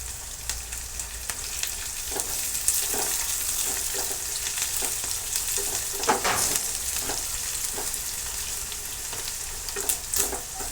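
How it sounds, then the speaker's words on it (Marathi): Green chillies and coriander sauté in hot oil for kande pohe, giving a steady close sizzle with intermittent scraping and stirring clinks from a spoon against the pan. "मिरची देखील आपण आता तेलामध्ये व्यवस्थित परतून घेणार आहोत. तेलामध्ये थोडीशी कोथिंबीर देखील टाकून घेणार आहे."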